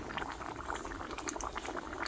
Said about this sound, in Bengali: ডালটা 5 মিনিট ফুটিয়ে নেব।